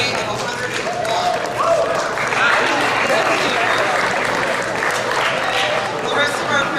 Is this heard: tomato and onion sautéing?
no